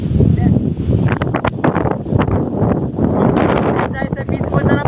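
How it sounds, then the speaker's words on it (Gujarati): Strong outdoor wind buffets and roars across the microphone in loud, uneven gusts, with someone talking over the rumble throughout. "વાવર આવે છે મિત્રો"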